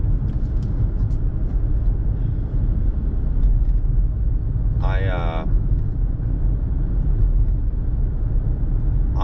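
A car drives along with a steady, loud low road-and-engine rumble that fills the whole stretch, broken only by a brief chirping sound midway.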